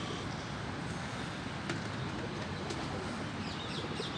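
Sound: teddy pigeon cooing

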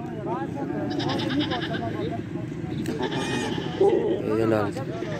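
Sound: goats bleating at a goat market

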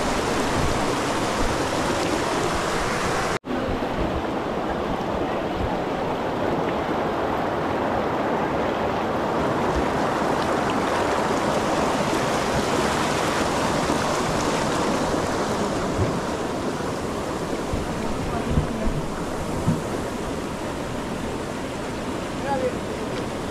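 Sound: river water flowing near Baba Dhansar

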